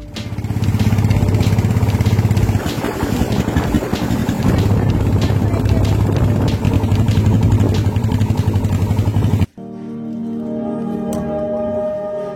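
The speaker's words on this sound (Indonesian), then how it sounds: "dari sini saya akan melanjutkan lagi perjalanan menggunakan perahu" A motorboat engine drones steadily and loudly on a boat journey from Rumbia, Bombana, to Tapi-Tapi village in Southeast Sulawesi. The close, continuous roar cuts off abruptly near the end and gives way to a different, lower-pitched engine hum.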